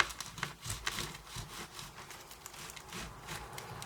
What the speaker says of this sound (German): Das lässt sich jetzt ein bisschen schlecht schneiden, weil das so grob ist.